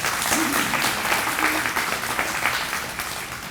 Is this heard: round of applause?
yes